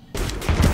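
Shotgun blasts in The Division video game, a quick pair of close, loud booms following a brief silence.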